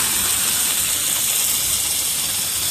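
Water sprays hard from a hose across a cricket ground, a loud, unbroken hissing gush with no talking.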